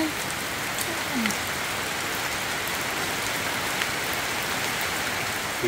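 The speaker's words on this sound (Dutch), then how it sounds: "Het gaat steeds harder regenen." Heavy rain pours down on a forest trail at Manoa Falls on Oahu, Hawaii, making a steady, dense hiss that holds evenly throughout with no break.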